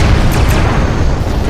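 Starship torpedo launch and explosion in the space combat game Star Trek Online, a loud sustained low boom with a brief sharp burst near the start and rumbling through the rest.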